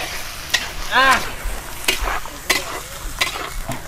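Bihon noodles are stirred in a hot pan at a big cooking show: a sizzle sits under a run of scraping and tossing strokes, with a squeaky, voice-like tone rising briefly near the start.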